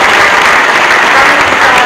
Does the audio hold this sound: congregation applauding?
yes